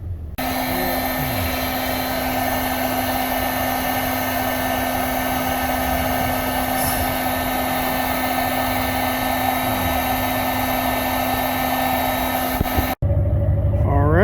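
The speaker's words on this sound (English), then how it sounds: "Now I'm going to fit the sleeve over it and then run the heat gun over it." A heat gun blows steadily while shrinking a sleeve over a soldered, twisted wire connector during boat trailer wiring repairs, a continuous loud airy whir with a constant hum that cuts off abruptly near the end.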